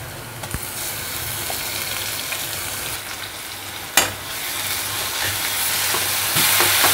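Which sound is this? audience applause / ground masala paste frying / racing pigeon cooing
ground masala paste frying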